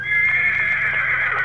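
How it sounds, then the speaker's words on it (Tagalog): A horse gives one loud, close neigh, a strained, quavering whinny that holds steady for over a second, with no other voices around it. "Ang kabayo ko! Ang kabayo ko sa'yo!"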